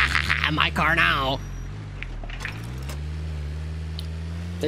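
Car keys jangling in a video game, a short bright metallic rattle near the start while someone talks, followed by a steady low engine-like hum.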